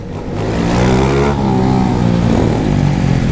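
BMW S1000RR sport motorcycles rev loudly in a group ride, close and powerful, with rising engine pitch and overlapping exhaust tones from several bikes.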